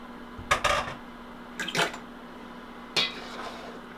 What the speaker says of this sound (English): So take our pasta that's been draining in the sink. We're just going to go right in with it.